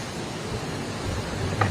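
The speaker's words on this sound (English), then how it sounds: "The waves are happening." Ocean surf heard on a live stream, a soft continuous wash of breaking waves mixed with wind noise, rising a little toward the end.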